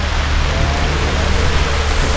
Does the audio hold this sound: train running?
no